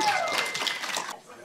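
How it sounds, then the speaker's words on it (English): Audience clapping at Awesome Games Done Quick 2019, a speedrunning charity event, with a steady patter of applause from a large room that cuts off sharply near the end, while a host's voice talks over it. "This is where you clap again"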